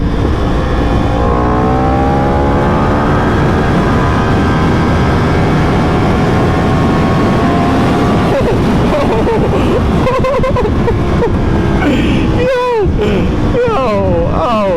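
Yamaha R1 1000cc sport motorcycle engine revving hard at high RPM, a loud rising, strained whine climbing in pitch and then dropping off, with wind rush and a voice over it.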